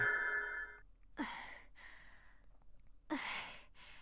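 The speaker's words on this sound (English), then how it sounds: "He then made out the sound of someone breathing nearby." Someone nearby breathes in the Root Double visual novel: a few close, soft breaths and sighs with quiet pauses between them, after a brief tonal sound at the start.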